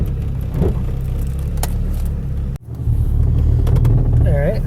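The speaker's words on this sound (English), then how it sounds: "We can still idle along." A 1989 Jeep Cherokee rolls along at idle, giving a loud, steady engine rumble with a brief dip midway, and a voice talks over it.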